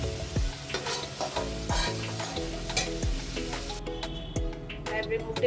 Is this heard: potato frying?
yes